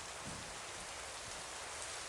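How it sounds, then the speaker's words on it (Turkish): Steady rain in the Roblox video game, a dense, even hiss of falling drops at low level with no voices or other sounds over it. "Yağmur da bir bitmiyor ya."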